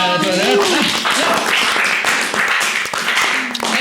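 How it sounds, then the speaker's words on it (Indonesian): An audience at a Jember night show claps for a local skateboard crowd, with rapid overlapping hand claps mixed with cheering voices, loudest at the start. "tepuk tangan dong"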